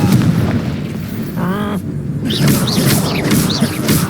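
A Confringo fire spell in a Harry Potter video game goes off with a boom, a short bright burst that echoes briefly, following a brief spoken line and spell effects.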